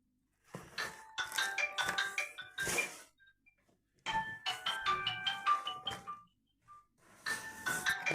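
A mobile phone ringtone plays for an incoming call in a village home. It comes as bursts of bright, repeating melodic chimes separated by short pauses, moderately near and alone, with no talking over it.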